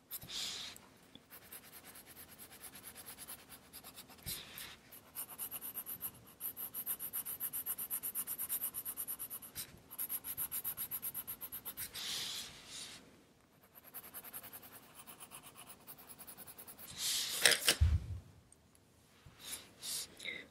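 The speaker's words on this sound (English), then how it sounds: "I cannot go dark enough with the warm gray pencil, so I'm going to bring in the dark gray" Dark gray colored pencil scratching and rubbing across paper in steady strokes, quiet and close, with a sharp louder burst near the end that may be outside noise.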